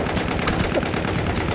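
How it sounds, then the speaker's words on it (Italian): A whole magazine is emptied in Battlefield 1, a dense rapid burst of automatic gunfire with no pauses, loud and close, running continuously throughout. "io ho scaricato un caricatore intero"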